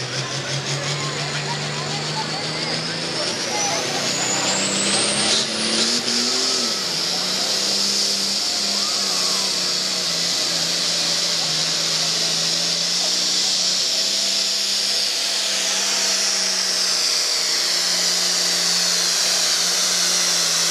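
A 7,000-pound modified pulling tractor roars loud and near at a tractor pull, its engine pitch climbing sharply in the first seconds, then holding a sustained, strained howl throughout.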